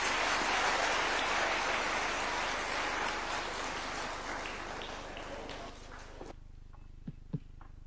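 Audience applause for His Excellency after a government speech, a loud, dense wash of clapping that fades and breaks off into a few isolated claps.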